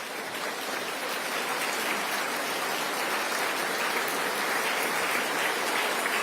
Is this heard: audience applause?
yes